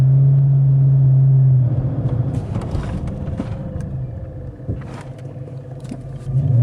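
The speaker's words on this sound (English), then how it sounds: "Braking distance from 40 miles an hour." Car braking from 40 mph during a test of aftermarket versus stock brakes: a steady engine drone cuts off into a rougher rumble of tires and chassis as the car slows, loud and close, with no talk.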